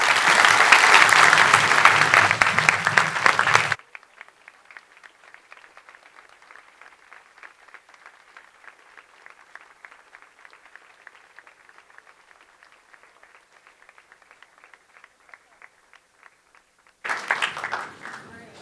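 Applause for Newt Gingrich at a conservative student conference opens in a loud, dense burst, drops to a thin scattering of claps for a long stretch, then surges again near the end.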